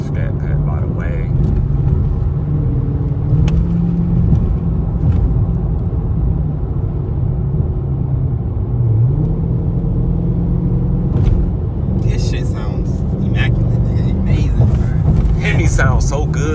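A Dodge Charger Scat Pack's engine drones steadily from inside the car while driving through traffic at night, with a low continuous rumble that swells and eases; voices talk over it.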